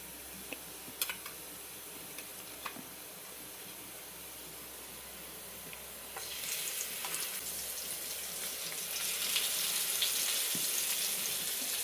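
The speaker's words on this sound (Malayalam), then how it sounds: "ഇനി നമുക്ക് മീൻ കഷ്ണം ഇടാവേ." Pieces of fish are set into hot oil in a pan with garlic, bringing up a soft, continuous sizzle that grows noticeably louder and hissier partway through, with a few faint clicks and no talking.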